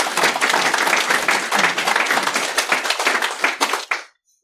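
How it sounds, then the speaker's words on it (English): Audience applause at a threat modelling tech talk after a live demo: dense, steady clapping from a room of people for about four seconds, then cutting off abruptly into silence. "Just now get a round of applause for doing like a demo."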